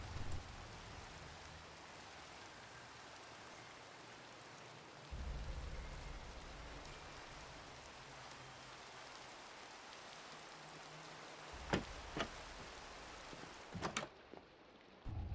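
Steady rain falling in the Minecraft video game, a soft continuous hiss with a few faint drop-like clicks toward the end, quiet and without talk.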